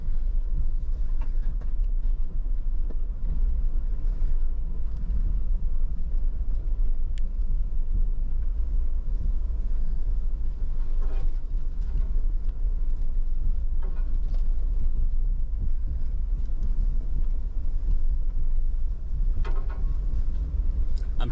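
A vehicle in two-wheel drive rolling around an idle farm, a steady loud low rumble of engine and tires that runs unbroken with faint knocks and rattles over it.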